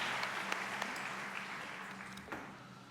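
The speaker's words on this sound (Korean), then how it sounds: "우리 다시 한번 감사의 박수 올려드립니다." A church congregation at a Sunday morning service gives applause of thanks, a soft, steady wash of many hands clapping at a distance with a few sharper claps standing out.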